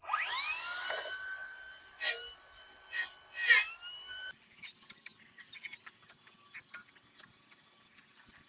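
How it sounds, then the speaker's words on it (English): A Gisam 8-inch battery weed wacker cuts tree root sprouts outdoors, its motor whining up and then down in pitch, followed by a run of quick scratchy swishes and snaps as the line hits the stems, close and moderately loud. "I can just hit them with this trimmer and just cut them right up there."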